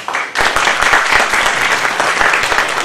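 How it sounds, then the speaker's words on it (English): Lecture hall audience applauding to welcome a keynote speaker, a sudden burst of steady, close clapping that carries on for several seconds. "please welcome Professor Vinay Kumar with a warm round of applause"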